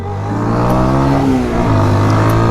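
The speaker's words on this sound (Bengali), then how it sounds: "তো এখন আছে আমার সাথে পালসার, চলেন একটু রাইড করে দেখা যায় পালসারের রাইডিং স্টাইল" Modified Pulsar 160 motorcycle engine running during a ride, a loud, steady droning rumble with a slight rise in pitch as it pulls, close to the microphone and with no voices.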